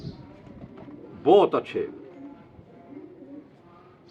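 A pigeon gives one short coo at close range, loud and brief, against a quiet background where someone speaks a few words.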